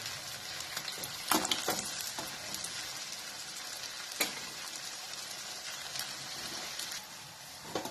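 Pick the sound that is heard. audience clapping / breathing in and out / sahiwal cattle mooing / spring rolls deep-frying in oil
spring rolls deep-frying in oil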